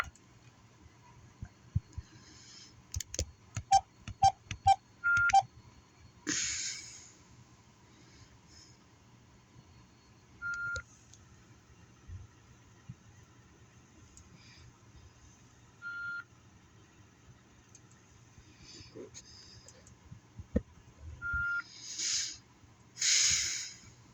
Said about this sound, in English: The beeping is just like, it's very high pitched, so it's sensitive on my nerves.